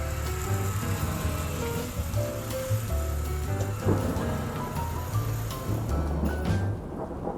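Heavy rain drums steadily on a van during a road trip, a continuous close patter heard throughout over a low, rhythmic musical bed.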